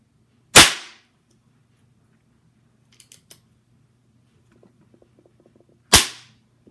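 Two sharp, loud pops from homemade paper roll percussion caps fired in an unloaded gun, several seconds apart, with faint clicks of the mechanism between them.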